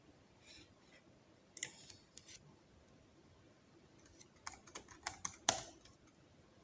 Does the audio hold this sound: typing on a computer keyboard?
yes